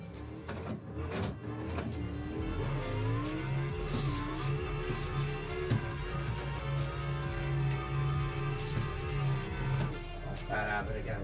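A racing simulator game gives a car engine droning and shifting pitch with steady tire and road noise, while someone talks over it throughout.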